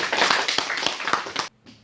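A small audience at a Korean peace talk event claps in a brief, close burst of overlapping hand claps that stops abruptly, followed by a faint trailing clap.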